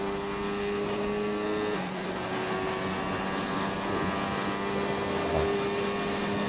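A race car engine in a sim racing game holds a steady high whine on the final straight of the Canadian GP, shifting pitch once partway through, loud and continuous with no voices.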